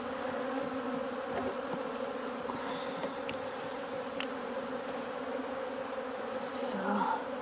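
Steady, dense buzzing of many honey bees at a hive, a continuous low drone with a few brief louder passes nearby.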